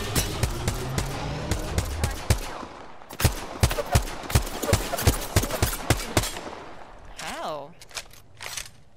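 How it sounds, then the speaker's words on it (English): Rapid bursts of automatic gunfire in a shooter video game, a steady series of sharp close cracks through the middle seconds, with players talking over it. "They're all shooting me."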